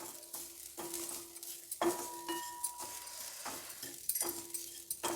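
Fried ingredients for Aracchuvitta Vendakkai Sambar, a lady's finger sambar with fresh ground spices, are reheated in a pan: quiet stirring scrapes and taps of a utensil over a faint, soft sizzle, in irregular strokes.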